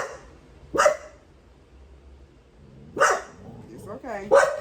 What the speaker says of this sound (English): he tends to bark at people that he doesn't see